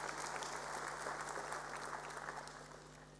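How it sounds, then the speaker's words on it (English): A big hand of applause at a Class of 2022 matric results event, dense steady clapping from a crowd, fairly quiet and continuous, with a low hum underneath. "Let's give them a big hand of applause."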